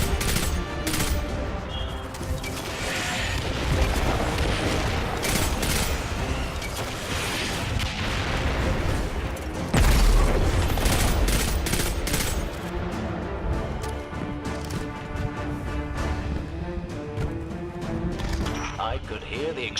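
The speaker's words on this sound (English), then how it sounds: "I could hear the explosions all the way back here." Dense, continuous rumbling blasts and crackling gunfire-like bursts from explosions in the video game Destiny 2 fill the scene, loud and chaotic, with booms layered over one another throughout.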